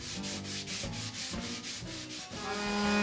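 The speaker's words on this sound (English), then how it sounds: "I do a second sanding using finer 220 grit sandpaper" Rhythmic back-and-forth rubbing of fine 220-grit sandpaper on wood, steady and close, each stroke a soft rasping swish repeating at an even pace.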